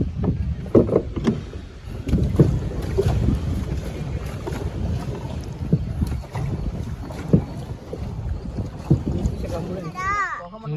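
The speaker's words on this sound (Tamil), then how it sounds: "வாங்க போட்டில் போகலாம்." Boat ride on a lake at a boat house in the Kolli hills, with steady low water and hull rumble and strong wind buffeting the microphone, lasting throughout while voices talk intermittently.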